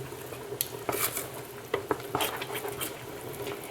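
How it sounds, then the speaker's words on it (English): A spoon stirs melting ingredients in a soup pot on the stove, giving scattered close clinks and scrapes of metal against the pot over a low background hiss. "you're going to stir that around until it melts"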